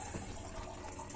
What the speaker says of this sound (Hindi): नाउ हम इसमें पानी डालेंगे, 7 पैकेट्स ऑफ मैगी के लिए अराउंड 5 ग्लास ऑफ वाटर